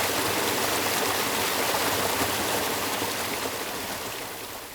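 Shallow mountain valley stream on Eobisan: a steady, close rush of running water filling the soundscape alone, easing slightly toward the end.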